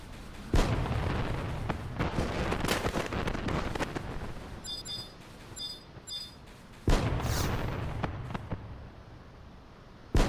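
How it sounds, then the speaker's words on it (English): Fireworks thrown in Final Fantasy XI pop and bang repeatedly. Two heavy blasts stand out over a continuous fizzing, crackling bed, with brief bright chiming tones partway through and no speech. "This is just throwing fireworks."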